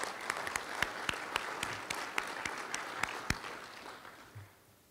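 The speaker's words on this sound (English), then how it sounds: "Let's give them all a round of applause." A room of attendees at a chamber of commerce breakfast gives a round of applause, scattered sharp claps over a softer crowd wash that thins out and fades away in the final second.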